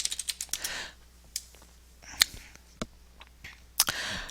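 Computer keyboard typing for a search, short bursts of quick key clicks at the start followed by a few sparse, separate taps and clacks, close and fairly quiet in an otherwise still room.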